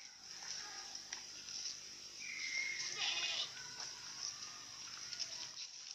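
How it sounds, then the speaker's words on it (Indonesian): Black-headed Etawah crossbreed goats bleat intermittently during bathing, a couple of clear calls rising above steady background noise and faint activity, moderately close. "proses pemandian kambing kepala hitam milik Pak Budi."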